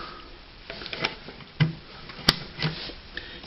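Plastic clips on an LG refrigerator fuse cover snap into place with a few short, sharp clicks spread across a couple of seconds, close and fairly clear against a quiet background.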